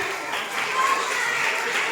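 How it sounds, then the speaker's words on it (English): An audience at a school foundation day quiz competition claps for Arun Kumar, giving a short burst of applause that echoes around the room. "Arun Kumar sir with a loud round of applause"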